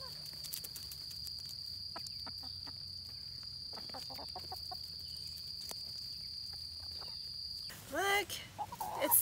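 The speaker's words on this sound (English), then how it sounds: "The chickens loved exploring the garden, so much that they started to eat my plants" Chickens clucking and calling while exploring a farm garden, scattered soft clucks over a constant high insect drone, then a burst of louder, closer squawks near the end.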